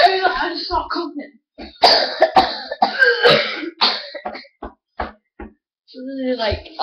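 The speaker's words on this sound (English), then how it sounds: "I just start coughing." Several harsh, rough coughs from someone doing the cinnamon challenge burst out in quick succession, loud and close, separated by short pauses, with a voice making sounds between them.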